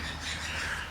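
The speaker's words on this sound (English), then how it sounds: "You guys can hear the birds." Crows cawing outdoors in the morning, a brief harsh call over a steady background hum, at moderate distance.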